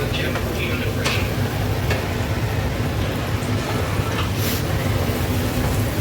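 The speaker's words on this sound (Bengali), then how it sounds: "এখন হচ্ছে আমি ভেজিসগুলোকে হালকা করে সতে করে" Vegetables, including bell peppers, sauté in a pan for soya chili with a constant close sizzle and occasional stirring scrapes, while a voice speaks over it.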